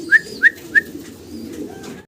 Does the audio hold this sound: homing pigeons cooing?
yes